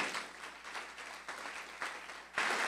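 A church congregation at a Spanish-language service claps together in a dense, close burst of applause that swells and ebbs for a few seconds, with a brief louder surge near the end.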